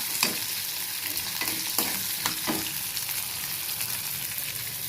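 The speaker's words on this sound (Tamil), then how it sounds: "இது வெங்காயம் நல்லா கண்ணாடி பதம் வர அளவுக்கு நல்லா வதக்கணும்." Onions sizzle and crackle steadily in a hot pan until translucent, with a few louder stirring scrapes breaking through the continuous frying hiss.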